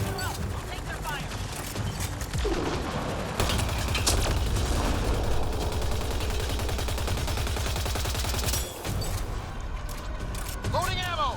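Gunfire during a firefight in the video game Mass Effect: Andromeda, dense continuous bursts and booms with mechanical clatter throughout, loud and close, with game voices mixed in.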